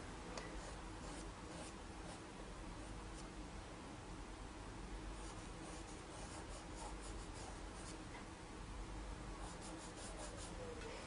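Pastel rubs and scratches steadily across paper while a portrait is shaded, a soft continuous scraping texture with faint ticks, quiet and close with no talking.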